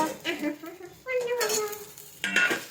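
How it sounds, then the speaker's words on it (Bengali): Shrimp fry in a home kitchen pan with a moderate sizzle, broken by clinks and scrapes of utensils against cookware in short, uneven bursts. "এদিকে হচ্ছে চিংড়ি ভাজা।"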